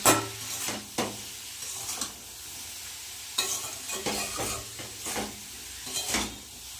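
Mixed vegetables sizzling in a pan after turmeric and salt go in, with repeated loud scrapes and stirring strokes over a continuous frying hiss.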